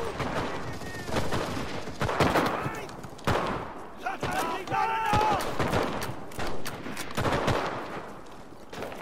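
A machine gun nest firing in the World War II shooter Enlisted, with rapid bursts of automatic fire and scattered shots throughout a busy battle, a voice talking over the gunfire.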